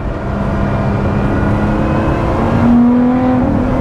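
A Lotus Exige Sport 390 Final Edition engine revs up and holds a loud, droning, trumpet-like tone, building slightly in pitch toward the end, close and continuous.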